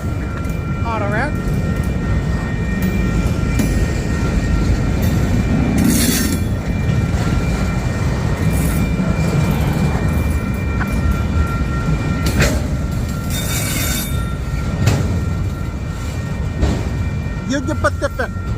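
A Union Pacific freight train hauling auto rack cars rolls steadily past at close range, a loud continuous rumble of wheels and cars with occasional high wheel squeals and flange whines throughout.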